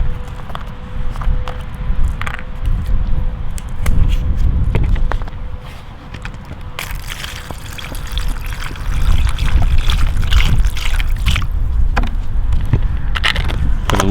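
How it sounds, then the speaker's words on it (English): Gunk rust remover liquid trickles and pours over rusty bolts from an old farm truck, with wet splashes, clinks and handling noises close by and no voices. "Bolts are all rusty, so I'm just gonna use gunk rust remover."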